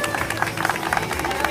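Applause from an audience at a marathon medal ceremony, a dense run of quick claps kept up steadily over the whole short stretch with crowd noise underneath.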